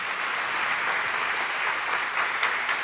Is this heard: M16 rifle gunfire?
no